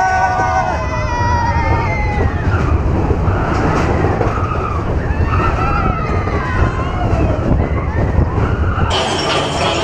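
Mine train roller coaster at Magic Kingdom, a wilderness-themed ride, rumbling and clattering loudly on its track throughout, with excited riders shouting and chattering over the steady roar.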